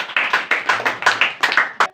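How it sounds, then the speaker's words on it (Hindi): A congregation claps loudly together at a church service, about a dozen sharp, closely spaced rhythmic claps in a steady pattern, with no voices over them. "जिंदा खुदा के पाकरू के लिए एक बार जोरदार तालियां।"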